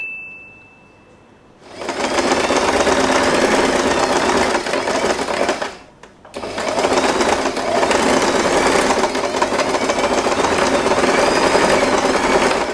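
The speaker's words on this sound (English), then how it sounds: "Join the elastic band together, and we are going to randomly sew this part." Sewing machine stitching the joined elastic band of a fabric scrunchie, a loud continuous close-up whirring run that starts after a quiet moment, pauses briefly, then resumes steadily.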